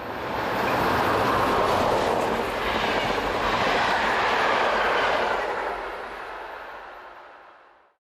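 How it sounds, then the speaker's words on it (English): A Class 1042 electric locomotive heads east on a line near Lake Balaton, its loud rushing roar and wheel rumble passing close for several seconds before fading quickly away into quiet. "an unidentified Class 1042 heads east"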